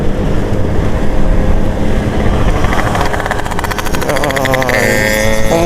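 Yamaha RX two-stroke motorcycle exhaust while riding at night, a steady loud engine drone with rising revs and wind rush throughout, the pitch climbing near the end.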